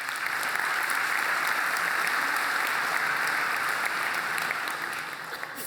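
Audience at a Laracon EU PHP conference talk applauding: sustained, even clapping from a large crowd that holds steady for several seconds, then begins to thin out at the end.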